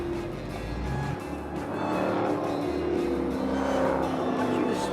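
A race car at full throttle along the straight of a road course at a high-performance driving school, its engine note a loud, steady roar held from start to finish, with a voice faintly underneath.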